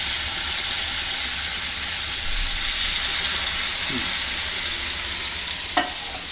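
Chicken kebabs frying in a pan of butter and oil, a steady loud sizzle with crackling spatter throughout, close, and a brief scrape or stir near the end.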